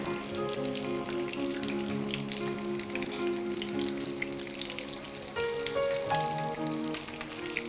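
Fish cutlets frying in hot oil in a pan, a steady crackling sizzle with occasional louder pops, close and continuous, heard alone without talk.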